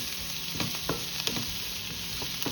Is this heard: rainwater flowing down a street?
no